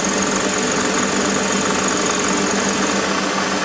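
A milling cutter spins at 1300 RPM on a Warco WM180 lathe while cutting a hexagon on a small part, a loud, steady whine and buzz that continues without pause and with no speech.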